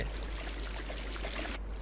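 A waterfall in The Sims 4: Island Living gives a constant rushing, splashing wash of water, steady and fairly loud, that drops away abruptly just before the end.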